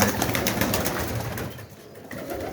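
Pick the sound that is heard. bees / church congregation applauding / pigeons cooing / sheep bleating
pigeons cooing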